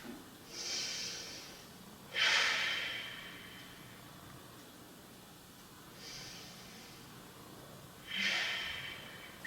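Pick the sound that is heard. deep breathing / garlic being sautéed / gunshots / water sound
deep breathing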